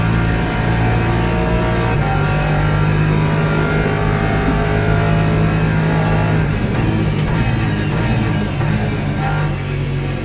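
Loud, continuous engine drone with a low, rumbling, tractor-like tone, steady throughout and occasionally shifting pitch, a race car in the Le Mans Ultimate racing game heard from inside the cockpit.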